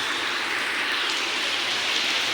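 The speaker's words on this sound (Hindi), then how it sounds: "तेज बारिश हो गई है" Heavy rain pours down in a steady, dense hiss that fills the whole stretch without a break, with no voices over it.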